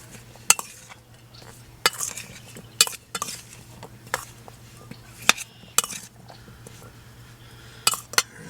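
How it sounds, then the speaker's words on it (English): A crushed cucumber and pear salad seasoned with black pepper is tossed in a bowl at a camp cooking setup, giving irregular clinks and scraping taps of a utensil against the dish, close and without talk. "we're going to give that a mix"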